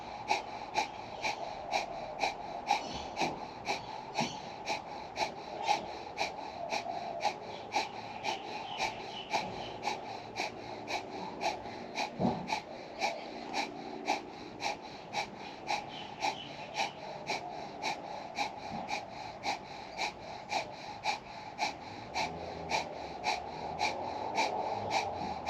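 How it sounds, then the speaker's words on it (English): Breath of fire (Kapalabhati) yoga breathing, with the navel pumping, gives a long run of quick, sharp nasal exhalations at a fast steady pace of about two per second. It is close and moderately loud, with no talking. "we're going to be doing breath of fire. So we're pumping the navel."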